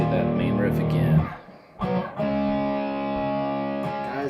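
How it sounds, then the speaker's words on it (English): An electric guitar run through a Bixonix Axentrix A1 distortion pedal plays a distorted riff, with ringing sustained chords, a brief near-silent break, then another chord left to ring out. "The distortion tone that I'm getting in this guitar lesson all comes from this pedal called the Axentrix A1. It's by Bixonix."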